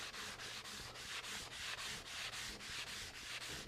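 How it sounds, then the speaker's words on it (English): Sandpaper backed by a stiff sponge block scrubs the cast iron top of a Delta Unisaw table saw in steady, close back-and-forth strokes, about two per second, loud and hissing with no talk. "I'm using this stiff sponge block to back up the sandpaper because I want a flat surface when I'm sanding the cast iron top"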